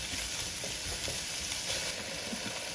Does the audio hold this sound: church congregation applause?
no